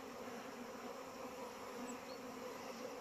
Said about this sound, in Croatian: Uglavnom pčele se ne bune, lijepo su prezimile